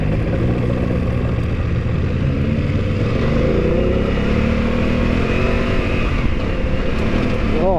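A 2024 BMW F900GS enduro motorcycle accelerating on a ride: a loud, continuous engine roar that rises and holds, with wind rush throughout.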